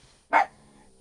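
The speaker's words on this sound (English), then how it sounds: "you're encouraging them to bark too" A single short, sharp dog bark indoors after the mail carrier passed, close and fairly loud against a quiet background.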